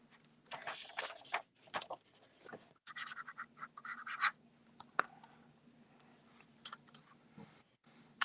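A Parker Jack Knife Safety pen scratches out a big X on paper in close, dry, uneven strokes, with brief pauses and a few sharp taps between bursts of scratching.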